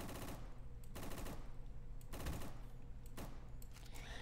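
Gunfire from a gun in the Roblox game Rolling Thunder, loud rapid automatic bursts of about a second each, separated by brief pauses, close and dominant throughout.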